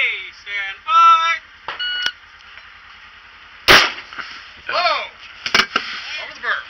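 Sharp, loud gunshots ring out on a practical shooting competition stage, with a couple of distinct cracks following electronic timer beeps and voices nearby.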